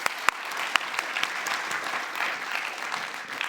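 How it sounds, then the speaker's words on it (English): An audience at an economics keynote event claps steadily to welcome a speaker to the stage, with a few sharper nearby claps standing out against a continuous, moderately distant patter. "A big round of applause, everyone,"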